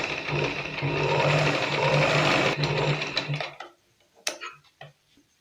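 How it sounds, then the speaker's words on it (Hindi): A sewing machine runs steadily, stitching blouse fabric and its lining together with long stitches, a loud continuous mechanical chatter for about three and a half seconds before stopping, followed by a few scattered clicks and handling noises. "इसके कॉर्नर से हम सिलाई करके लेंगे बड़े टाकों वाली, ताकि अस्तर और कपड़ा हिल ना सके"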